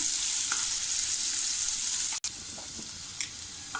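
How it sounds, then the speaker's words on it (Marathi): Onion sautéing in a pan for a Malvani-style prawn curry, a bright, continuous sizzle close up with occasional stirring scrapes and one sharp click partway through. "बघा आता आपला कांदा असा बघा थोडा गुलाबी रंग होईपर्यंत परतून घेतला"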